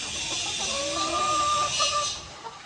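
Breeding hens clucking steadily in a coop, a busy cluster of soft, overlapping calls with one clearer drawn-out note in the middle, no talking.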